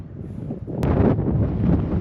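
Wind gusts across a mountain trail near Terila Pass in Nepal's high country, a steady low rumble of buffeting against the microphone that strengthens after the first second and stays loud and close.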